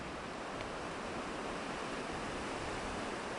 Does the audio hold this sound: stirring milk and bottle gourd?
no